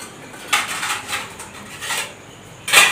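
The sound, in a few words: clanging utensils, pots and pans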